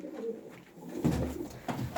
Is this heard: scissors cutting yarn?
no